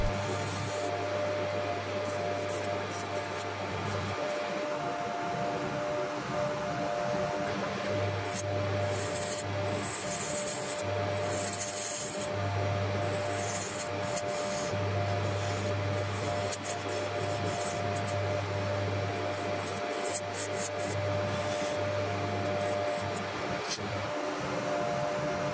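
Wood turning on a lathe, with chisels and scrapers cutting a spinning workpiece: a steady motor hum runs underneath while repeated rasping, scraping bursts come and go across the whole stretch, moderately close.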